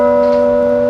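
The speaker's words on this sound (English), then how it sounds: "I'm playing bells by hand, That's the way they should be played." A church tower bell in Gloucester, played by hand, rings as one loud, sustained tone with a steady ringing hum and no voices.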